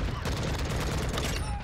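Rapid gunfire crackles in Call of Duty MW2, a dense burst of shots lasting under two seconds, loud and close.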